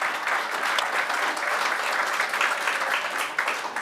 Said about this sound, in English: So let's give our sustaining sponsors a round of applause.